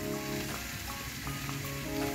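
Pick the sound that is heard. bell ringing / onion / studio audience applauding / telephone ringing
onion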